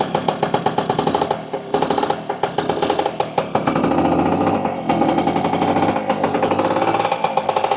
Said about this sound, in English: So just let it tick over a little bit on the choke.